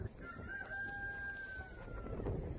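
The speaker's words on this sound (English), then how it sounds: "Can you do something about that stupid bird?" A rooster crows a single long cock-a-doodle-doo, fairly close and clear, standing out over a steady background hum.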